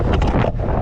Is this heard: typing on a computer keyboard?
no